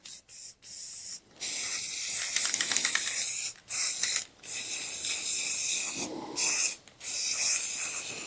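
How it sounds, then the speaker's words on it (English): Aerosol coating sprayed onto small wooden Christmas craft offcuts, a series of sharp hissing bursts of varied length separated by brief pauses, loud and close. "So I'm going to spray them up"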